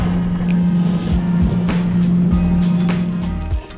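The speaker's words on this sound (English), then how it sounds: "Taking out his brand new 19-foot Boston Whaler. Make sure everything's all running smoothly." A brand new 19-foot Boston Whaler motorboat engine runs steadily and close, a loud continuous low drone with a few passing bumps and surges, no talking.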